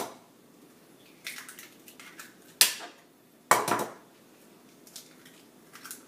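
Butter and two eggs being mixed into dough in a bowl, with a wooden spatula knocking and scraping against the bowl in a few sharp clacks and softer squishy stirring sounds, close and otherwise quiet.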